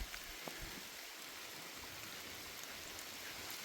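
Steady rain falling on a farm, a dense even hiss of drops pattering on surfaces nearby, continuous with no voices.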